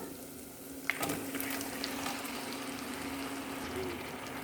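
Spices with nutmeg powder frying in a pan, a steady soft sizzle and crackle running throughout, with a brief clatter near the start and no talking.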